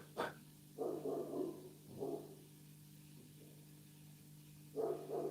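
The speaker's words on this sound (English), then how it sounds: "can you hear the dog barking?" A dog barks in the distance in a few short, faint bursts separated by pauses, over a low steady background hum.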